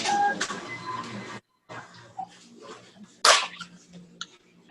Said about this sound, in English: And then we're gonna find our label printer. We'll print that.